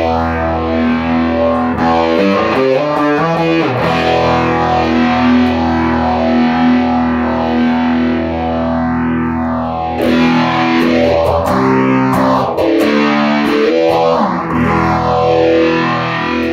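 An electric guitar plays through a Strymon Zelzah phaser pedal with distortion, loud and sustained, its sweeping notches rising and falling in slow repeating waves across the held chords.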